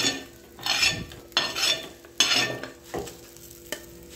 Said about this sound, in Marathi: मसाला भाजून झाला आहे, आपण प्लेटमध्ये काढून घेते मी